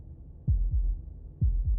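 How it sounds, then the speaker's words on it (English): A heartbeat in the video game Slay the Princess: two deep, booming lub-dub pairs about a second apart, low and thudding against near silence. "That was the sound of a heartbeat"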